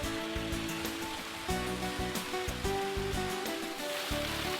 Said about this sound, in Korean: 인공 절벽을 타고 쏟아지는 폭포는